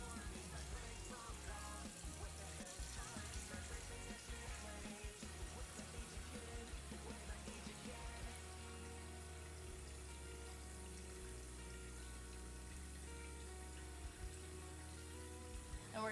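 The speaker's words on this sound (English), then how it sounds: "we're gonna go ahead and get some water into this pot with the salt" Tap water running into a cooking pot with salt for boiling spaghetti, a steady gushing wash that continues throughout, faint and partly under background music.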